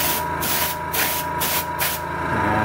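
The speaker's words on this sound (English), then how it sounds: "I'm just kind of doing a real light spray." Four short bursts of hissing aerosol spray applying a light base coat to a Datsun 280Z, evenly spaced, close and fairly loud over a low background hum.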